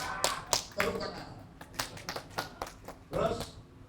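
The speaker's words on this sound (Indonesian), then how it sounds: "Tepuk tangan" A few sparse, uneven hand claps from an audience at an education talk, sharp separate slaps rather than full applause, fairly close and quiet, with some voice mixed in.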